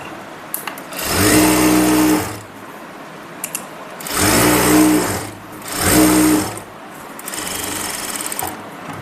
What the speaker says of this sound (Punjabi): ਹੁਣ ਆਪਾਂ ਇਸ ਨੂੰ ਸਭ ਤੋਂ ਪਹਿਲਾਂ ਆਸਣ ਤੇ ਸਲਾਈ ਲਗਾਵਾਂਗੇ